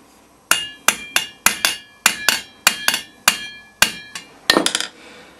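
Repeated ringing metallic hammer blows on boiler sheet metal, struck one at a time at a steady pace, ending in a quick burst of rapid strikes.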